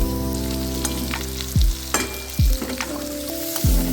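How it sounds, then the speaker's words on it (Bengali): A spoonful of sour yogurt meets potatoes frying in a pan, bringing several loud, short hissing sizzle bursts over a steady low hum, close by with no voices. "এবার 1 চামচ টক দই দিলাম।"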